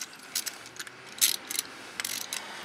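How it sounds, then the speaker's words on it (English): An Allen wrench turning a Harley-Davidson front brake bolt, making soft, quiet ratcheting clicks in short, irregular bursts with no talking. "So now I'm going to take this Allen wrench."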